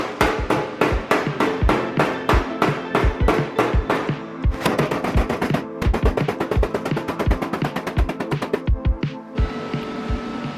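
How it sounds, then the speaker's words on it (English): Sheet metal firewall hammered into shape in a car workshop, loud ringing metallic blows in fast repeated bursts, some single strikes and some rapid runs, near and alone without talk. "I just had a bit of a belt at it with the hammer."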